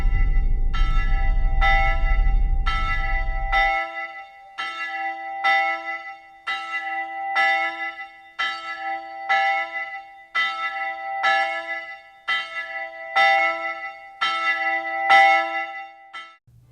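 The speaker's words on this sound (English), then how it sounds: "I could hear those bells echoing" A low rumble gives way to a bell at Mansfield Reformatory tolling slowly and evenly, each stroke ringing out, echoing and fading before the next.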